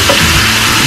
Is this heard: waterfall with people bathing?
no